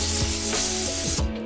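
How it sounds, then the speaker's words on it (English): Compressed air blasts and a scrubbing brush clean dirt from the fuel pump hanger of a Mk2 Ford Focus ST225, a steady close hiss broken by short brush strokes, then cutting off near the end. "A brush and some compressed air makes light work of it."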